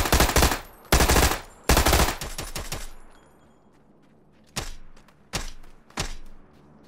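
Gunfire in the video game PUBG on the Miramar map: a couple of seconds of loud, rapid automatic bursts, a quiet gap, then three separate sharp single shots, with no talking.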